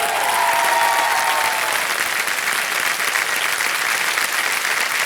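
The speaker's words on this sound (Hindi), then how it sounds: "तालियां बज जाए जोरदार।" A studio audience at a quiz show applauds steadily and loudly throughout, a continuous wash of clapping with a faint tone fading early on.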